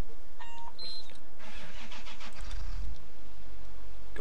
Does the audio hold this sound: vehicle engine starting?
yes